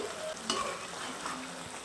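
Egg and chicken gizzard masala being stirred in a pan, a soft scraping and faint sizzle running steadily through a short stretch, with one brief louder clink partway.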